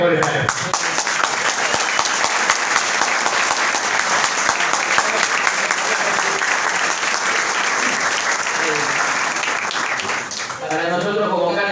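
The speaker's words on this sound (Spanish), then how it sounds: "guardemos fuerzas para aplaudir" An audience at a university lecture event applauds a guest speaker with loud, continuous clapping that fills the whole stretch, dipping briefly near the end before resuming.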